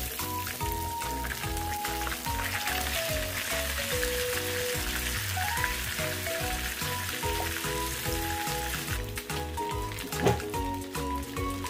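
Gourami fish frying in hot oil while being turned, a steady dense sizzle and crackle running throughout with background music over it.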